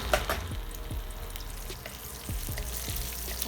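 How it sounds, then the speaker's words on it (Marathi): Chillies drop into hot oil left over from frying prawns and sizzle up close, a steady hiss broken by sharp crackles and pops. "तेल टाकलं, मिरची टाकली मी।"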